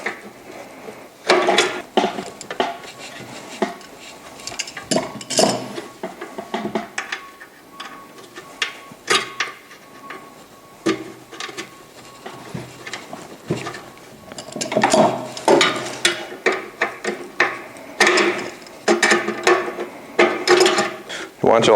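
Metal spring clips being slid and pushed onto a Santa Fe blower motor flange with channel-lock pliers give close, irregular clicks, scrapes and ratcheting snaps in bursts.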